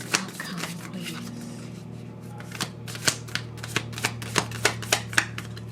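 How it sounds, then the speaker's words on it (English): A stiff new deck of oracle cards is shuffled close by, starting as soft rustling and then breaking into a run of crisp, evenly spaced riffle snaps that grow sharper toward the end. "so it's harder to get them shuffled"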